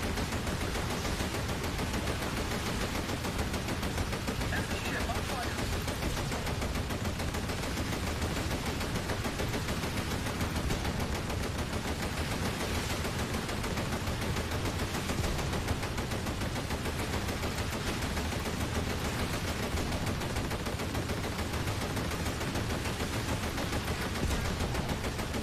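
Dense, continuous gunfire in a shooting game, a sustained barrage of rapid machine-gun bursts that stays loud and unbroken for the whole stretch, with no voices over it.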